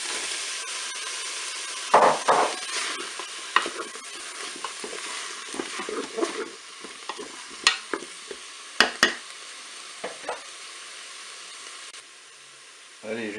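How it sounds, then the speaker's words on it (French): Sliced zucchini stirred into a hot Cookeo multicooker with tuna and curry powder, giving a steady hiss and sizzle broken by scattered utensil scrapes and clicks against the pot, with faint voices now and then. "Et je vais ajouter mes courgettes."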